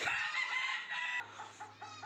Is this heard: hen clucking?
yes